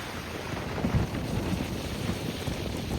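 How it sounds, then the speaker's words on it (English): Steady, broadband roar of strong wind buffeting the microphone in Cap-Chat on the Gaspé Peninsula, continuous and loud throughout with low rumbling gusts. "Very, very windy."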